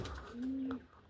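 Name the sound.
bird landing and cooing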